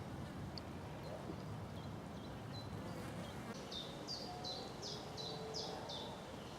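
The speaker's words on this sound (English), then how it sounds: "the old chiff chaffs are still around" A chiffchaff sings its repetitive two-note chiff-chaff phrase on a countryside walk in Essex, a run of clear evenly spaced notes at moderate distance over steady outdoor ambience, with a person talking.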